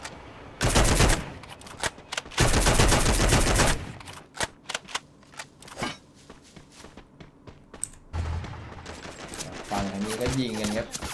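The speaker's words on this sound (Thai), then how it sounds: "ยิงกันครับ" Bursts of automatic gunfire from the Free Fire battle royale game, loud rapid volleys followed by scattered single shots and footsteps, with later muffled in-game sounds.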